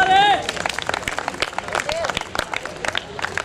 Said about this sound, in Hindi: ज़रा इनके लिए थोड़ी सी तालियाँ बजा दें।